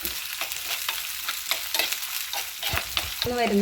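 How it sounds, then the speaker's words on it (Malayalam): Ginger, garlic, green chillies and shallots sautéed in a pan for a fish curry, loud close crackling sizzle broken by repeated spatula scrapes and stirs, no voices. "നമുക്ക് പച്ചമുളകും ചെറിയുള്ളി അരിഞ്ഞ് വെച്ചാണ്, അതും കൂടെ ഇടാവേ. നന്നായിട്ട് വഴറ്റിയെടുക്കാം."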